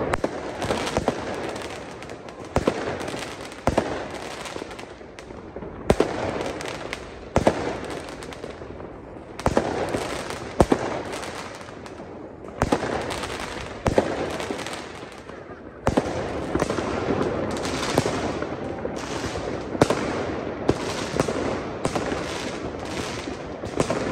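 Fireworks and firecrackers exploding at a New Year's Eve celebration near a hospital, a dense continuous barrage of sharp cracks and pops with louder bursts throughout, fairly close and loud.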